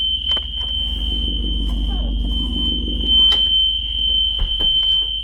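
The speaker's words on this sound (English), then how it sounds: "Alarms work." A school bus safety alarm tested during an inspection: a loud, steady high-pitched electronic tone sounds continuously throughout, with a few clicks and low engine rumble underneath.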